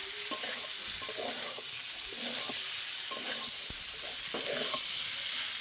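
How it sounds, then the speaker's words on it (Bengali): Fried soybean chunks and fried potatoes are stirred with spices in a hot pan, giving a steady soft sizzle broken by repeated scraping and clinking strokes of the spoon, close and fairly quiet. "একই সাথে দিয়ে দেবো ভেজে রাখা সয়াবিন। ভালো করে আমি একসাথে মিশিয়ে নেবো মশলার সাথে।"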